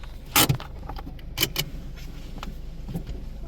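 Keys jangling near a car, a few short metallic rattles in brief bursts against a quiet background with faint low rumble.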